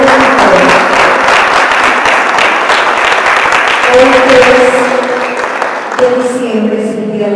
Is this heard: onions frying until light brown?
no